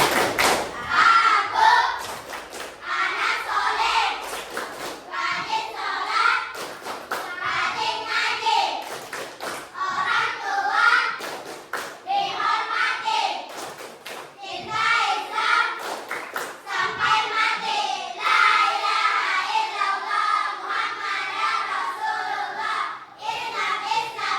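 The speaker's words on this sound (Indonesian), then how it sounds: "Ya, kita mulai ya, tepuk anak soleh." A combined grade four and five primary classroom performs the rhythmic 'tepuk anak soleh' clapping chant, with sharp, steady hand claps and children's voices chanting together throughout.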